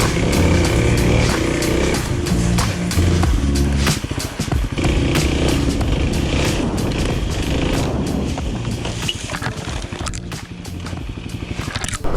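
A 2021 Kawasaki KLX300 dirt bike ridden through the woods, its engine droning loudly and continuously with revving changes, plus scraping and clattering from the trail.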